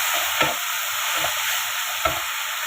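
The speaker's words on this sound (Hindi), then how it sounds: "अब टमाटर को चला देंगे" Tomatoes being stirred into browned onions in a frying pan, with a steady sizzle and three distinct scrapes of the spoon against the pan, close and clear without any talk.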